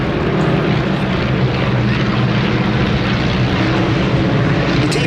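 de Havilland Tiger Moth biplanes of the Tiger Nine display team flying at the Duxford Battle of Britain Airshow in 2017, giving a steady, loud propeller drone that holds throughout with no break.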